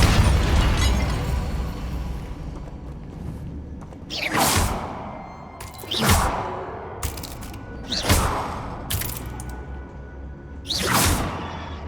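Confringo fire spells blasting in Hogwarts Legacy: five sharp explosive bursts with whooshing tails land roughly every two seconds after a quieter opening, each loud and close, with no talking.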